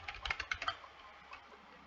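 Quick clicks on a worn computer keyboard during a Friday Night Funkin' mod rhythm game, rapid taps packed into the first moment then slowing to sparse faint presses.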